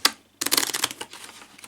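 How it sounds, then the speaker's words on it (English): A short snap, then a quick fluttering riffle of cards being shuffled, crisp and close, trailing off into a few soft taps. "quite nice to use to riffle shuffle"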